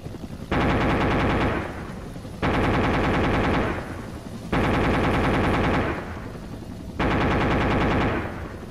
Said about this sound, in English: Each of you is going to fire a 40 round burst.